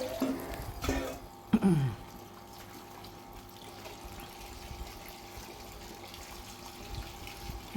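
Water runs and splashes steadily, like a tap filling a basin, with a few sloshing bursts near the start, as fish is washed.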